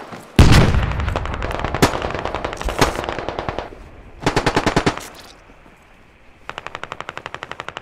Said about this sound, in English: There's our friendly gun.